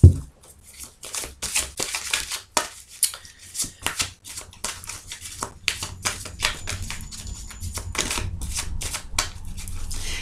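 Tarot cards being shuffled close up, a quick run of crisp riffling snaps and soft slaps in irregular bursts, continuing steadily without any talk.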